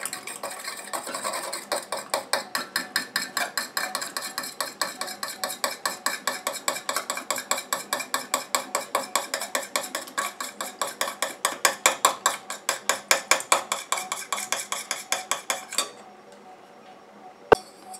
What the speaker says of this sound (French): Je continue à mélanger comme ça jusqu'à ce que mon mélange épaississe et refroidisse.